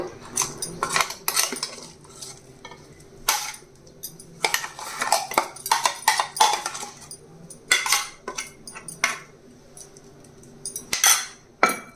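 Metal spoons and steel dishes clink and clatter repeatedly as ground chutney is scraped onto a plate, close and fairly loud in irregular bursts with short pauses.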